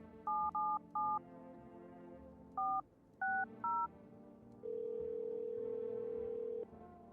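Telephone keypad tones in a horror video game: a quick run of separate dialing beeps in two bursts over a soft background hum, then a steady two-second tone.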